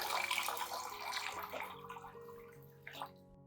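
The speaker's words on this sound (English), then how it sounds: "Add 500 milliliters of clean water to the solution and gently stir until evenly combined." Clean water pouring into a plant solution and being stirred, a bright splashing, running-water sound that is loud at first and then eases into softer trickles and small stirring movements.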